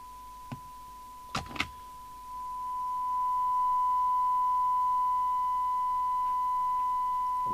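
A steady test tone from a signal generator comes through an Amstrad CB901 FM CB radio under repair, first preceded by a few brief clicks and knocks, then rising to a constant pure tone.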